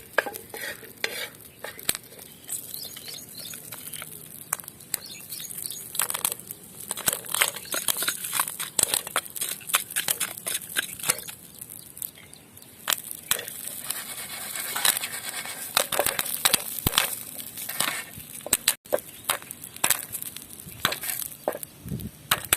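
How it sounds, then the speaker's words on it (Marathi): Corn kernels stirred continuously in oil on a flat griddle as they turn into popcorn, a steady close scraping with dense crackling sizzle and scattered sharp pops throughout. "हे आपल्याला सारखंच हलवीत राहायचं आहे म्हणजे पॉपकॉर्न खाली जळत नाहीत"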